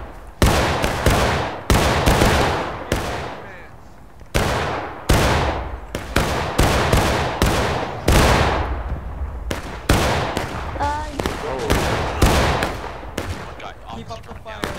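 Musket volleys crack out again and again in the Civil War game War of Rights, a large line battle of about 120 players, loud and near, with ragged bursts every second or so and shouted voices in between.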